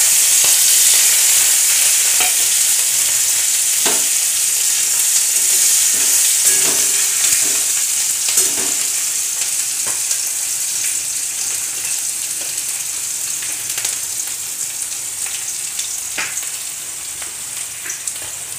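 Cardamom pods, a cinnamon piece, green chillies and crushed garlic cloves sizzle loudly in hot oil, a strong continuous hiss with sporadic pops and crackles that slowly eases, close and without talk.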